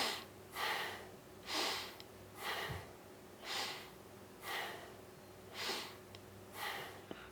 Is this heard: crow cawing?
no